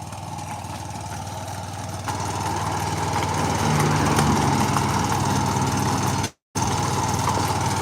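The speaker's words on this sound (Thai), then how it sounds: "ตัวนี้จะเป็นรถขุดขุดร่องนะคะ วางท่อได้เลยค่ะ" The engine of a trench-digging machine used for laying pipe runs steadily nearby, a continuous mid-pitched drone that grows louder after a couple of seconds, then cuts out for a moment before resuming.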